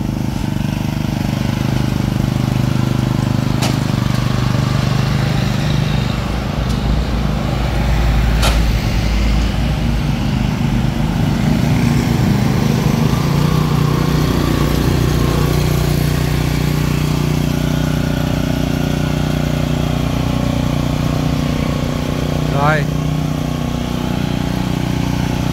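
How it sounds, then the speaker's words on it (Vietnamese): A Kubota engine on a 500 kg three-wheel cart runs loud and steady close by, its low throbbing drone continuous throughout with a few sharp clicks and knocks over it. "Con này giật nó dễ nổ lắm, động cơ đời mới nha anh em. Giật nhẹ nổ rồi."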